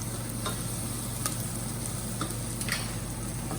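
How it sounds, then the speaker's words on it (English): Curry paste frying in a pan for a vegetable curry, a steady close sizzle that runs throughout with a few faint taps of a utensil against the pan, no voices. "We're going to fry off the curry paste for a couple of minutes."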